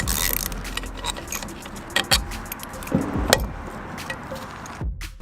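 Work on the fuel rail of a Mazda FC RX7 rotary engine, with close metallic clinks, taps and jangling parts in irregular bursts over a faint background hum.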